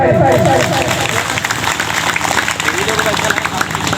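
Audience applause at a Sarna prayer gathering in Lundri, Chanho: a dense, steady wash of clapping from a crowd, held at close, loud level throughout, with a voice speaking over it.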